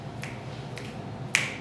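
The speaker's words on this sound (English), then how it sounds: "And now, when I snap my fingers," Three crisp finger snaps ring out at uneven intervals in a quiet room, the last one the sharpest and loudest, each a short bright crack over a faint low background hum.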